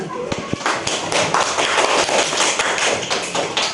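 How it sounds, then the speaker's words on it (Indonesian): Classroom of students clapping for a presenting group, a burst of close, dense hand claps and taps that carries on steadily for several seconds without talk. "itu dari kelompok 1, tepuk tangan."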